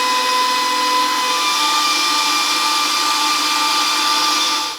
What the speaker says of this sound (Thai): ตีด้วยสปีดกลางต่อได้เลยครับ อันนี้เราตีให้ไข่เขา ขึ้นฟูเป็นฟองละเอียดขึ้นมานะครับ